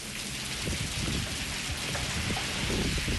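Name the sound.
heavy rain falling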